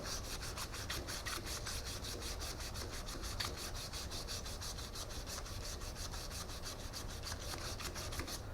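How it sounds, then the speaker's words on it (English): Sandpaper rubbing a spinning wooden goblet on a lathe: a steady, fast rhythmic scratching that pulses evenly throughout, close and continuous, with no talk. "we're going to clean it, step up the grit, we're going to sand that up to 320 and then put it back"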